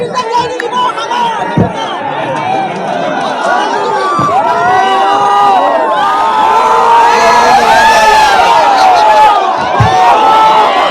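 A large outdoor crowd at a bridge inauguration claps and cheers loudly and continuously, with whistles, shouts and chatter mixed in, along with a few heavy thumps.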